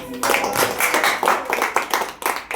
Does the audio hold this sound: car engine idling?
no